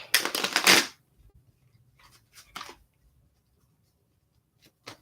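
Tarot cards riffled and shuffled in a loud, close burst of rapid papery flutter, followed by a few softer card slaps and shuffles amid quiet room tone.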